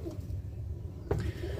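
Birmingham Roller pigeons cooing softly in a loft, low murmuring coos with a brief flutter, faint and steady in the background.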